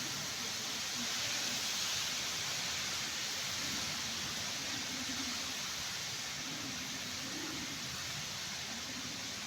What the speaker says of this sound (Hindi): बड़ी बारिश है, हवा भी बड़ी तेज़ है